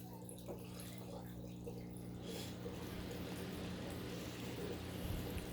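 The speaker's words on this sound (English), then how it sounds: "It's blowing bubbles." An air stone runs inside a tube of a homemade aquarium matten filter, giving a steady, continuous bubbling and gurgling of water, fairly faint and close, with no talk over it.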